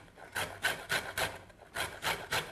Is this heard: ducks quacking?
no